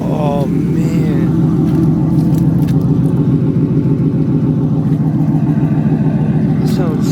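Deep, steady exhaust rumble from a single-cab Ford F-150 fitted with a new blacked-out AWE exhaust, idling loud and close with a continuous low throb throughout.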